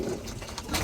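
A single racing pigeon gives a brief, soft, low coo, close up.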